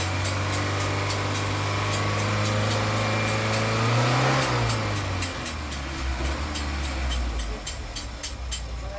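A car engine with a knocking fault revs up and falls back, its hum rising and dropping while a sharp, regular ticking knock repeats throughout, close and fairly loud.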